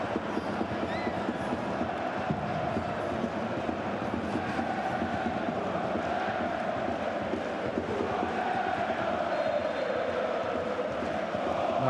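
Rot-Weiss Essen fans in a packed football stadium roar and cheer in a steady, dense wall of crowd noise that holds loud and continuous throughout, with no voices standing out.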